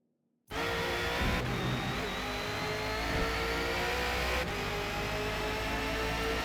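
Race car engine on a lap of Bathurst in a racing video game, starting abruptly after silence and then droning loud and close at steady high revs, with faint gear changes.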